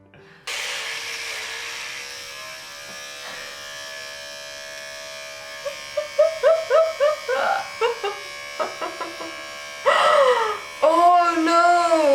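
Electric hair clippers buzz steadily at close range with a constant motor hum, shifting in pitch and loudness as they bite into hair during a DIY haircut on a boyfriend, with brief louder bursts near the end.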